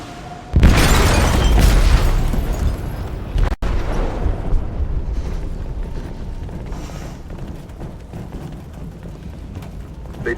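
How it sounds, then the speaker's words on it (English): An explosive detonates in a ship's hold in Detroit: Become Human, a sudden loud booming blast followed by a long rumbling, churning roar that slowly fades. "They detonated an explosive in the hold."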